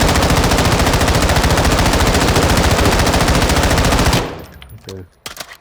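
A long, unbroken burst of rapid automatic gunfire from a gun in COD MW2 DMZ, loud and close, with evenly spaced shots. It cuts off abruptly and is followed by a short, quieter stretch with a voice.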